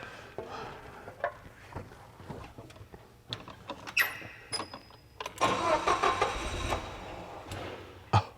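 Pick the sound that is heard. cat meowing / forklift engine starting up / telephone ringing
forklift engine starting up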